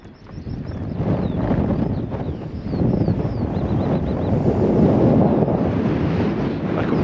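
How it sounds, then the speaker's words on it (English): Strong gusts buffet the microphone on the exposed summit of Brae Fell in the Lake District, a continuous roaring rush that swells and eases, loud and close with no talk. "Still windy, rain's let up just for a second."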